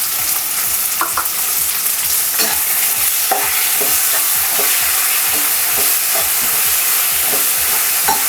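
Ginger garlic paste fries with onions in a pan, a constant bright sizzle over repeated scraping strokes of a spoon stirring the mixture, close up and with no voices.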